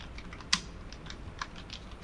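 Keystrokes on a computer keyboard while typing into Microsoft Word, a quiet spread of light clicks with three sharper, louder taps, close by with no talking.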